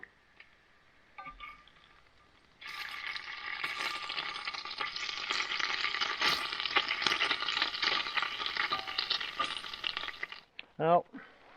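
A couple of thick bacon slices crackle and sizzle loudly in a pan at a remote wilderness campsite in Maine, with steady spattering that starts abruptly and continues densely before fading out.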